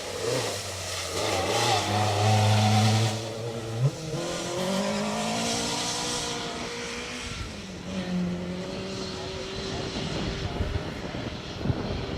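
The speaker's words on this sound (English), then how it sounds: "Mike Roberts, Ian Taylor in car 23" A rally car on a stage passes with a rising and falling engine note, loud at first then fading into the distance, with engine revs shifting as it drives on.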